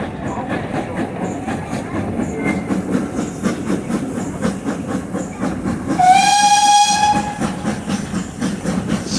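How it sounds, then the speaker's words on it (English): A steam locomotive on the Bodmin Steam Railway sounds a single clear whistle lasting about a second, over the steady rumble and clatter of the moving train heard from on board. "Sounded the whistle, didn't it?"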